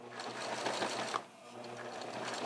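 Sewing machine running a short reversal stitch to lock a seam on a hand puppet: a close, rapid mechanical whirr, a brief pause as direction changes, then the steady stitching resumes.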